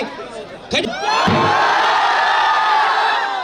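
Large crowd at an outdoor rally in Tharad erupting into sustained loud cheering and applause after a brief thump, a dense roar that swells and holds steady throughout.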